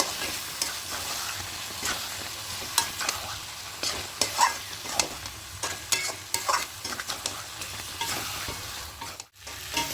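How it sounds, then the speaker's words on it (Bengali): Spinach paste is stir-fried in a pan for spinach chicken, a constant sizzle broken by repeated scraping strokes of a spatula, close and without talk. "পালং শাকের পেস্টটা একটু ভালো করে আর একটু কষিয়ে নেবো"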